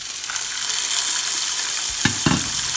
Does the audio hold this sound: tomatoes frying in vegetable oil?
yes